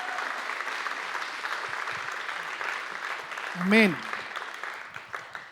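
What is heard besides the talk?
congregation applauding in church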